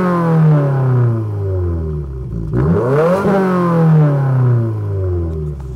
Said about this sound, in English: you do get these quad tip tailpipes, which do have an amazing sound